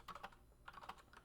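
A computer keyboard key, Page Down, is tapped several times in quick succession, with faint, close clicks in a quiet room and no voices.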